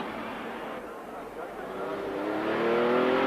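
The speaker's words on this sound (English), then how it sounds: "The neck-snapping acceleration of Chaz Kelly's Ferrari F40 clinches the fastest time." A Ferrari F40 accelerates hard on a TARGA Tasmania rally stage in 1992, its engine note rising steadily and growing louder toward the end, with a narrator talking over it throughout.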